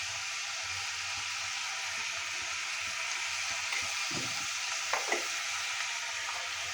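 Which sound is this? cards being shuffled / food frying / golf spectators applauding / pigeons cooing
food frying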